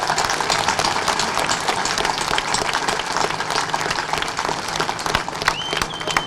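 An audience applauds at a public speech, dense continuous clapping filling the room at moderate loudness with no voices over it.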